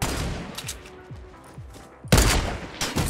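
Fortnite gunshots crack in quick succession, a few softer reports early on and then a loud, close burst of shots near the end, with no talk over them.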